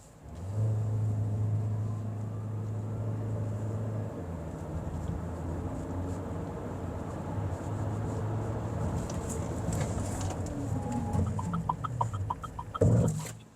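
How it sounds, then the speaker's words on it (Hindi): A Haval H6 HEV hybrid SUV pulls away hard with a steady, loud drivetrain roar that builds for about twelve seconds. It ends in a sharp burst of emergency braking with tyre noise. "पिकअप बहुत अच्छा है गाड़ी का और साथ ही ब्रेकिंग बहुत अच्छी है।"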